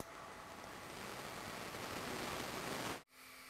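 A laser engraver's air assist pump runs with a steady, fairly loud broadband hiss that cuts out abruptly near the end, leaving a faint low hum.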